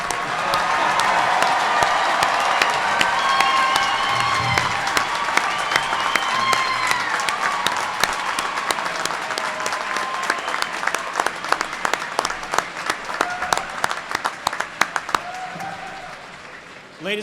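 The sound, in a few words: audience applause at graduation ceremony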